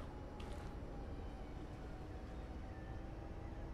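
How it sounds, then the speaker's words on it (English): Steady low rumble of a tram rolling along nearby in Bus Simulator 21, a continuous rail and motor drone at even loudness with no talking. "The tram is behind us."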